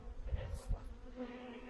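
Honeybees buzz around a hive's landing board in autumn, a soft, steady hum of many wings with one brief louder pass close by, faint and continuous throughout.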